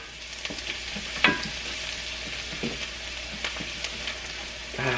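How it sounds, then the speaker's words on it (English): Garlic frying in a pan with a steady close sizzle, broken by a few scrapes and clacks as it is stirred. "And with your garlic, give it a stir."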